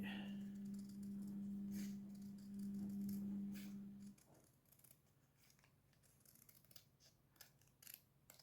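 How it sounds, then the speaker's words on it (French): A paper trimmer slices diagonally through paper in a craft setting: a steady whirring hum for about four seconds under a few crisp snips, then it stops, leaving faint rustling and light handling clicks. "Je vais directement sur le massicot et je coupe en diagonale comme ça."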